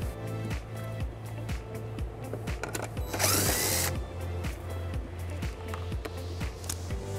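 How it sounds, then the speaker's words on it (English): Power driver with an 8mm socket spinning out a screw behind the bumper fascia of a 2020 BMW X3, giving a steady close whir with a rapid pulsing beat and a brief louder burst midway, with no talking. "Now this exposes a screw that we're going to remove using an 8mm socket."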